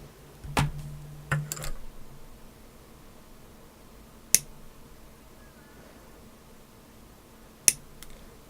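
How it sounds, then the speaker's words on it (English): Prongs on a magazine model-kit part being trimmed shorter with cutters: a handful of sharp, isolated snips in a quiet room, two close together early, then single clicks spaced seconds apart. "I'm going to cut the prongs a little bit shorter"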